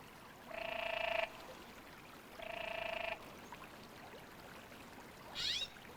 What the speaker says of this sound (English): At night, the male's croaks resound across the water, attracting females from as much as a mile away.